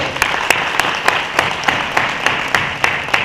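Slow, rhythmic clapping of a single person or small group, about three claps per second, close and crisp with a steady pulse over light room noise.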